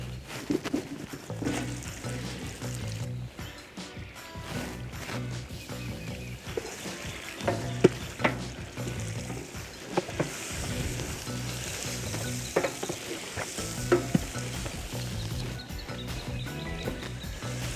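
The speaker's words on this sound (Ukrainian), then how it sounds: "Обжарюємо телятину." Veal sizzles and fries in an outdoor cauldron for Transcarpathian bograch, with steady loud frying and repeated stirring scrapes throughout, no voices.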